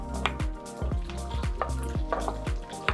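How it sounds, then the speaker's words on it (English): Onions and pepper fry in reused oil, a dense, continuous sizzle broken by regular soft scraping strokes of stirring, close and steady throughout. "Now it's time to fry the veggies. It's the same oil which I used earlier. First let's add the onions and the pepper."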